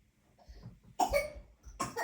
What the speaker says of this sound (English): Coughing a little bit.